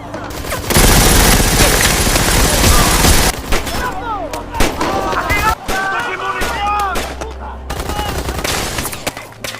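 Loud battle gunfire in a war film: a dense, continuous burst of automatic fire followed by scattered shots, booms and whistling tones, with voices faintly mixed in.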